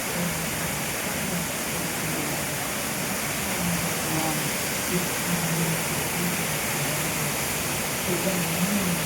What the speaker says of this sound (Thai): น้ำตกจำลอง